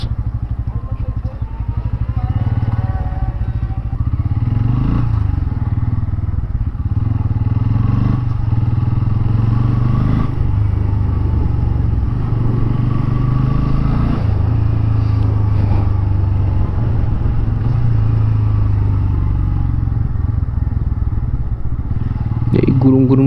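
A motorcycle engine rumbles loudly and continuously up close while the rider speaks over it, with low throbbing idle and occasional clatter.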